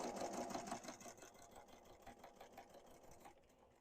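A quilting sewing machine stitching quilted fabric for a market tote bag, with a steady rapid needle clatter heard close and alone, fading slightly toward the end.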